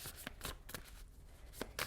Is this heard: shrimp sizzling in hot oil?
no